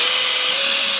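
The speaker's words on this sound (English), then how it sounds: "We're gonna drill it out this time" A power drill boring pilot holes into a car rear diffuser for a GLI, a steady high-pitched whine held at constant speed for the full second, close and loud with no talking.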